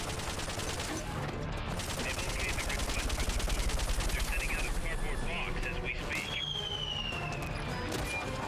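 Sustained automatic gunfire from the video game Metal Gear Solid: Peace Walker, a steady rattle of rapid rounds layered over loud battle noise, with a voice talking over parts of it.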